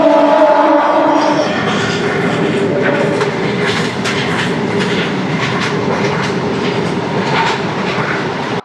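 Puri Tirupati Bilaspur express standing at a station platform, a steady rumble and low hum with a faint horn-like tone at the start and light clatter and platform bustle throughout.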